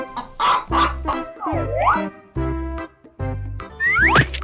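A chicken clucks in a 3D animal sliding video game, with short squawking bursts over bright electronic game music and whooshing effects.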